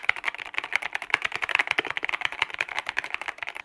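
Fast, steady typing on an Epomaker EK68 mechanical keyboard made of solid plastic, a close, dense run of crisp clacky keystrokes with no other sound.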